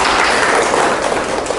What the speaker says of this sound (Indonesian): Oke, tepuk tangan untuk Pak Jira.